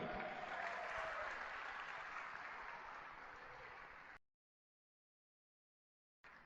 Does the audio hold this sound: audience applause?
yes